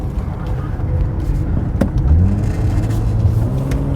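A 1980s BMW car being driven, with a steady, loud rumble of engine and road noise from inside the cabin, one sharp knock partway through and a low rising engine whir afterward, no talking.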